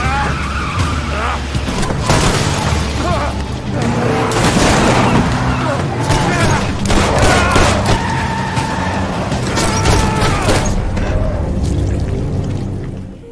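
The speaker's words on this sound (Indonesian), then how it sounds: "adegan kejar-kejaran serta tembak-tembakan pun terjadi lagi" Film shootout and chase scene with loud, continuous action sound: bursts of impacts and gunfire-like cracks over tire skids and engine noise, with voices mixed in throughout.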